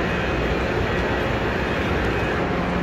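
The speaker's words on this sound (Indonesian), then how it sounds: "kereta cepat Haramain Mekah Madinah." Steady, dense rumbling roar of the Haramain high-speed train between Mecca and Medina running continuously at a constant level, with no breaks or voices.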